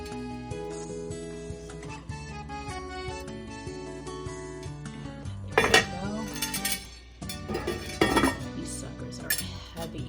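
A metal lid clatters onto a pot of simmering meatball sauce in a home kitchen, a few knocks and scrapes of metal on metal, heard over steady background music.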